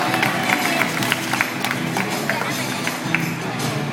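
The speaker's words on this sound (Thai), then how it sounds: "ปรบมือให้ตัวเองดังๆหน่อยครับ" Contest participants in a Lego model-building competition in Phuket applaud themselves, a dense steady patter of claps from a nearby crowd lasting throughout, with a faint voice or two underneath.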